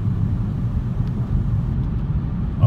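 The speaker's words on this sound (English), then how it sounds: "This is my first time driving a Scat Pack." A 2018 Dodge Challenger Scat Pack driving, its engine a steady low rumble heard from inside the cabin, loud and continuous with no voices.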